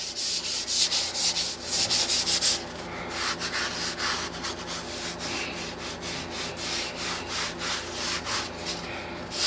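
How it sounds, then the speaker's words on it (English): A sponge scrubs gently over a rock holding a fossil needle fish, giving steady, rhythmic rasping strokes up close that continue without a break. "And I'm going to just give everything a gentle scrubbing."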